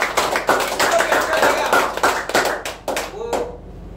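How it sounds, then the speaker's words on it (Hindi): Audience clapping at a motivational talk, a burst of many hands applauding together, fairly loud and close, thinning into scattered claps near the end. "तालियां बजाओ।"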